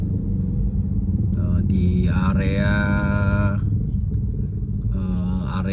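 Heavy traffic jam on a road in Batam heading toward the Barelang junction, with a steady low rumble of cars and motorcycles throughout as someone talks over it.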